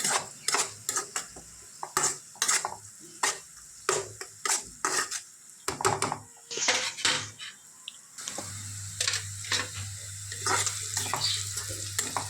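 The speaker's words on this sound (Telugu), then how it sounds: "కొంచెం జీలకర్ర వేసుకోవాలండి మొత్తం ఒకసారి తిప్పేసుకోవాలి" A spoon scrapes and clatters repeatedly against a pan while onions fry with turmeric and cumin, quick rhythmic stirring strokes over a soft sizzle that grows steadier toward the end.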